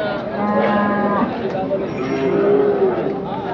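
Bullocks low at the Chakan cattle market, giving deep, drawn-out moos close by over a busy crowd murmur, with people talking in the background.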